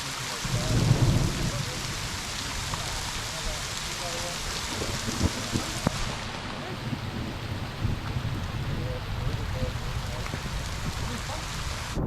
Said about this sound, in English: Dude, it is raining super hard out there.